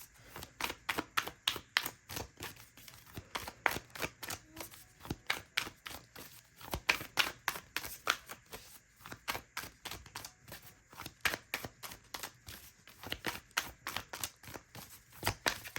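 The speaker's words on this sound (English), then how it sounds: "my cards are like shuffling so weird" Rapid, steady riffling clicks of cards being shuffled close by, a continuous rhythmic patter that keeps going without pause and has no voices over it.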